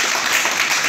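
Brief burst of steady audience applause, dense and even, at a warm welcome gathering for a visiting chairman and his team in Bhit Shah.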